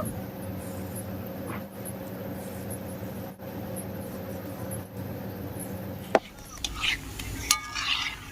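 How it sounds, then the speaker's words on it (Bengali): Oil sizzles in a steady, even hiss for several seconds as ripe jackfruit fritters fry, then utensil clinks and scraping break in near the end. "একইভাবে আমি সবগুলো বড়া ভেজে নেব।"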